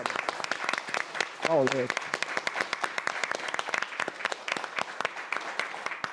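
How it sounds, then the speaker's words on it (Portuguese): Applause at a union talk event, with crowd clapping running steadily throughout the clip under a brief spoken name near the start. "Eu peço uma salva de palmas para o nosso camarada"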